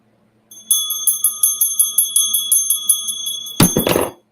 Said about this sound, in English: I dropped the bell.